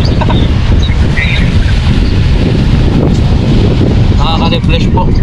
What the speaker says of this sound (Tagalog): Maririnig mo yung wave ng dagat.